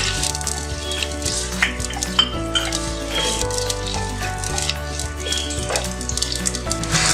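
Onions frying in oil in a pot for a chicken biryani masala give a continuous crackling sizzle that stays steady throughout, with a faint tonal background underneath.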